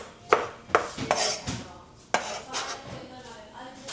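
Knife chopping onions and tomatoes on a board for a home-cooked kaldereta, a few sharp close cuts spaced irregularly amid light kitchen clatter, fairly quiet.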